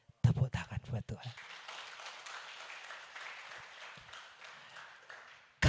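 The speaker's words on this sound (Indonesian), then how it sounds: "Tepuk tangan buat Tuhan." Church congregation at JKI Mawar Saron Semarang breaks into sustained applause, a dense, steady wash of clapping that holds for several seconds after a man's brief spoken words, then cuts off abruptly.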